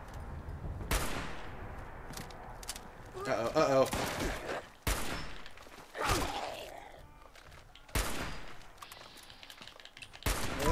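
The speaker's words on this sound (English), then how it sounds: "Like, right now, I hear gunshots." Bursts of gunfire ring out in Fallout 76, several sharp volleys of shots spaced a few seconds apart, with footsteps and someone speaking briefly between them.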